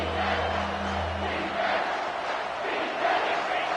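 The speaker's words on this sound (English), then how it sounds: "Here comes this home crowd as the defense tries to get off the field on third down." A home crowd roars in a College Football 25 game, a broad sustained stadium din with whoops and a low rumble swelling as the defense faces third down.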